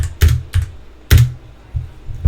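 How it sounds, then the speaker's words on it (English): Close, loud presses on a computer keyboard, arrow key and space bar, come as about six sharp clacks with a few heavier thumps, spaced irregularly over a quiet background. "I'm just going to hit the arrow key on my keyboard and then hit the space bar"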